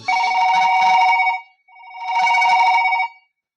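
A telephone rings in two loud, close bursts of electronic trilling with a short gap between them, heard on its own with no talk.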